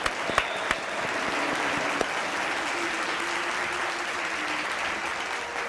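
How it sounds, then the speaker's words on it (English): A stadium crowd applauds a substituted Barcelona player during a Champions League match against Borussia Dortmund, a broad steady wash of clapping with a few sharp claps up front. "Round of applause for Pedri Potter"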